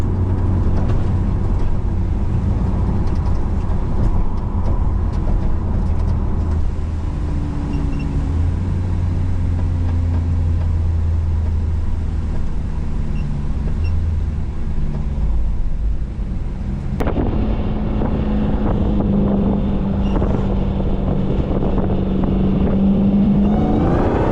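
A Dodge Magnum Hellcat engine with unrestricted exhaust rumbles steadily and loudly throughout, with a deep throaty exhaust note that shifts pitch partway through as it revs and changes gear.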